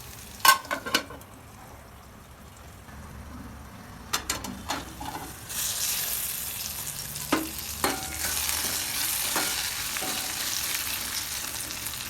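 Potatoes fry in a pan for batata poha while a spatula scrapes and clicks against the metal, the sizzle swelling louder partway through among sharp, irregular stirring knocks.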